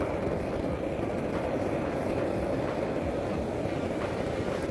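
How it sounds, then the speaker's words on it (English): Gas-fired propane burner on a can-melting furnace roaring steadily with a loud, continuous broadband rush of flame, constant and unbroken throughout. "Then I turn the gas bottle on slowly until it ignites."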